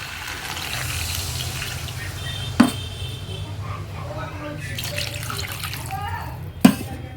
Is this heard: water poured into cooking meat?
yes